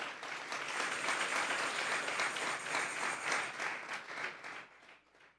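Loud, sustained applause from a church congregation, dense clapping filling the hall for about five seconds before tapering off near the end.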